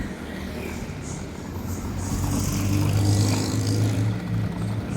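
Vehicle engine humming steadily on a road in Ranca Bango, swelling louder midway while passing a snack vendor's cart selling otak-otak, with faint traffic and ambient noise around it.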